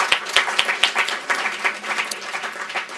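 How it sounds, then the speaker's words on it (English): Applause from an event audience at a policy discussion: a few close, crisp claps up front, then a busy patter of many hands clapping for the full three seconds. "I think we should give them a round of applause"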